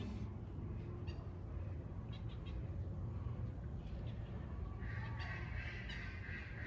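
A squeaky duck calls outdoors in a few faint, distant squawks over a steady, loud rumble of background noise.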